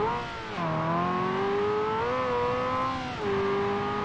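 A Ferrari F355 engine in BeamNG.drive holds a loud, sustained high-rev whine that dips in pitch twice as the revs shift, with no talk over it.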